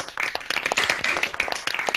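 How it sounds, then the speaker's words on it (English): Graduates of a psychology school cheer and clap over an online video call, a scattered, uneven patter of claps and whoops coming through several microphones, moderately loud and continuous. "cheer and clap for each other"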